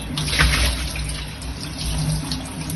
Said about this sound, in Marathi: मडका मी चांगला स्वच्छ धुवून घेतला आणि आता झाकण पण धुवून घेते